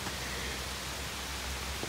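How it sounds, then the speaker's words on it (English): Steady, soft outdoor rain hisses evenly over a cabin deck under construction, with a faint drop or tap near the end. "It's raining."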